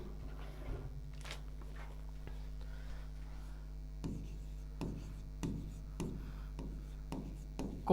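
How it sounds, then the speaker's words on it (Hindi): Chalk taps and scratches across a board in short, separate strokes as a definition is written out, fairly faint over a steady low hum, with no talking. "तो इसकी डेफिनेशन लिखते हैं अपन"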